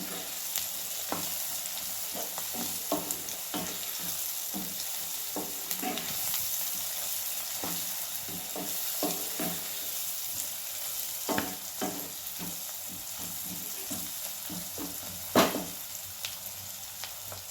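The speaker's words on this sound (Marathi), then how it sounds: "अर्धा चमचा गरम मसाला अर्धा चमचा धन्या पावडर थोडंसं हिंग मिक्स करून घेऊया सगळं" Garam masala, coriander powder and asafoetida sizzle as they are stirred into a pan for a farsan vegetable dish, with a continuous close fry and frequent rhythmic scraping strokes of the spoon throughout.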